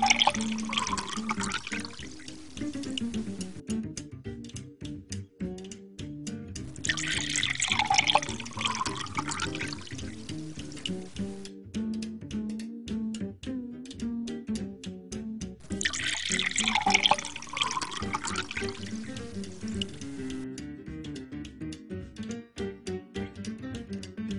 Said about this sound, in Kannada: ಆ ನೀರನ್ನು 4 ಚಿಕ್ಕ ಜಾರ್ಗಳಿಗೆ ಸ್ವಲ್ಪ ಸ್ವಲ್ಪ ಹಾಕಿ